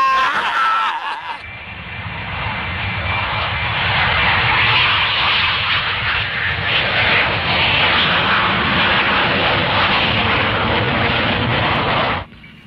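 Airplane engine in flight, a loud continuous roar that starts after a brief quieter opening, holds steady for about ten seconds as a broad, close drone, then cuts off sharply near the end, with no talk over it.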